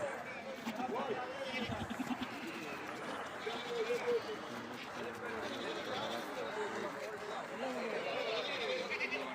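Goats bleating at a crowded festival goat market, with bleats rising over continuous chatter and voices of people nearby.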